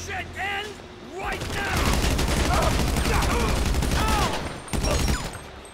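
Gunfire in GTA 5, a sustained fusillade of rapid, dense shots that builds and stays loud for several seconds, with a voice talking over the start and end.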